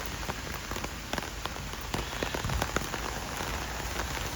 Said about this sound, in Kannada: ಮಳೆ ಬೇರೆ ಬರ್ತಾ ಇದೆ ಇವತ್ತು.